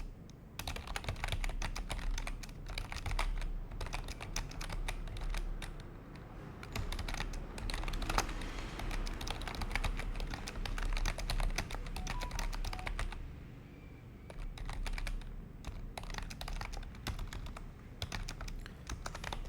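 Steady typing on a computer keyboard while building an e-commerce store, with continuous clicking keystrokes in quick bursts and short pauses, close and clear with no talking.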